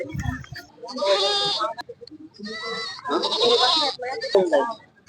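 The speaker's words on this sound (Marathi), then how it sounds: "भरपूर सारे बारीक बारीक बकरे आहेत शेळ्या मोठ्या शेळ्या आहेत" Goats at a weekly goat market in Ghoti bleat loudly and close by, in several long, drawn-out cries separated by short pauses.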